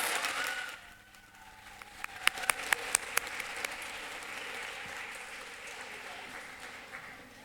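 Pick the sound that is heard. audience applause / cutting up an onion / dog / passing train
audience applause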